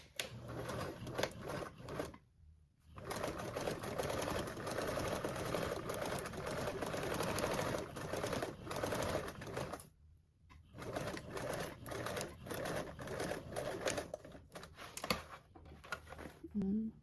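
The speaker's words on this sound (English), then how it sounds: "And then sew this with a 3/8 seam allowance." A sewing machine stitches a 3/8-inch seam on a fabric toiletry bag, running in long steady rattling stretches broken by two brief pauses, close and clear.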